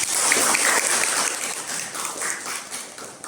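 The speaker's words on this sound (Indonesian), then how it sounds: "Tepuk tangan untuk kita semuanya." Classroom students applauding together during a lesson, a dense wash of clapping that starts loud and gradually fades over a few seconds, with little talk.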